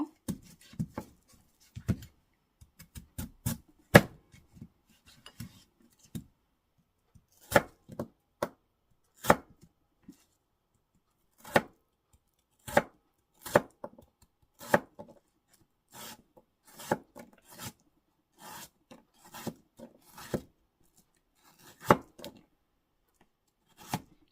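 A knife chops radish into pieces on a cutting board for Korean dongchimi kimchi, producing crisp, close, separate thuds in irregular bursts over a quiet background, with no talking.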